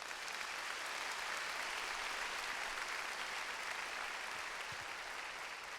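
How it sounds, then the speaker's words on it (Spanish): Applause from a church congregation during a sermon, a steady dense wash of clapping that stays even and moderately loud throughout, with no talk over it. "Dale un aplauso al Señor"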